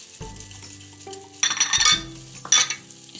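Gram flour batter with lemon juice and tamarind pulp being stirred in a bowl, close scraping and soft clinks of a spoon against the dish in uneven strokes, with a couple of louder, brighter scrapes.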